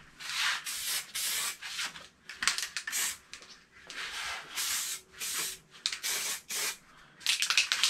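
Aerosol spray paint can spraying a white base coat, a series of close hissing bursts of one to two seconds each separated by short pauses, steady and fairly loud with no talking.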